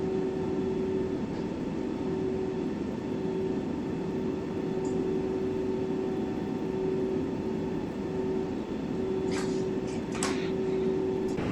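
Airliner taxiing toward the runway in Microsoft Flight Simulator 2020, a steady engine drone with a constant whine running the whole time and a few faint clicks near the end.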